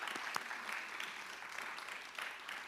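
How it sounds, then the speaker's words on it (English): Audience applause at a high school fine arts awards ceremony, a continuous soft patter of clapping heard from a distance and fairly faint. "Let's clap for Justin."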